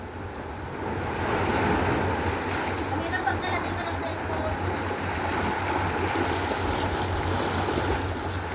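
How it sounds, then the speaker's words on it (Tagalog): Rough sea surf crashes and churns continuously, with wind buffeting the microphone and a constant low rumble of water. "malakas yung alon"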